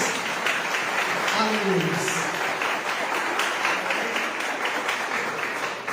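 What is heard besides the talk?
applause in church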